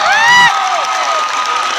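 A loud crowd at a welcome event for a singer on a sports field in Sivasagar cheers with high whoops and shouts, the roar tapering into sustained noisy cheering and clapping.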